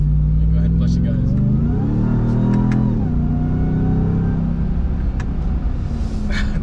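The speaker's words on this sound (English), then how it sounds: "Just listening to that supercharger all day" A supercharged 2021 Ram TRX truck engine revs up and accelerates, its supercharger whine rising in pitch then settling, loud and close throughout.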